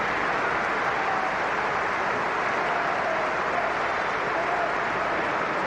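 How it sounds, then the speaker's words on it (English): Large stadium crowd at a football testimonial match for Michael Carrick, Man United 2008 XI against an All-Stars side, applauding players during second-half substitutions; a steady, dense wash of distant clapping and crowd noise holds evenly throughout. "Warm applause for all of these players who've taken part today."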